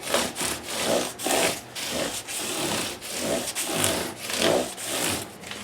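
Rhythmic back-and-forth sanding of a Stratocaster guitar body with 600 grit sandpaper, a close, steady scratchy rasp in repeated strokes about every half second, with no talk.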